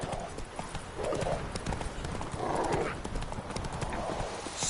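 A horse gallops in The Witcher 3 with a steady, continuous drum of hoofbeats, and brief snorts or whinnies rise above it.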